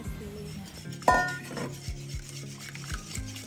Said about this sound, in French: Dans mon saladier, je viens casser mes œufs. Je viens rajouter du sucre. Je mélange.